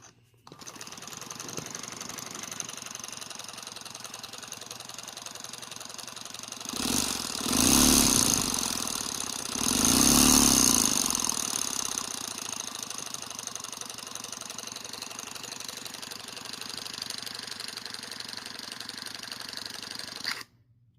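A 3D-printed single-cylinder air engine with a sliding valve runs steadily, giving a fast, even mechanical chatter close by, which swells louder twice in the middle before settling back to its earlier pace.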